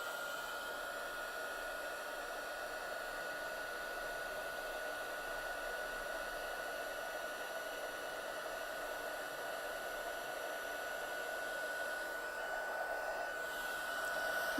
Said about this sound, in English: using our heat gun, and it's going to make some noise